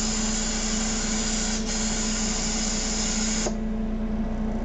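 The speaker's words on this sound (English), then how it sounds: "So it goes into another slight purge, and it kicks on the compressor again." A medical air compressor kicks on after a purge, a steady loud mechanical hum with a hissing air rush; a brief dip comes partway through, and the hiss cuts off near the end while the motor hum keeps running.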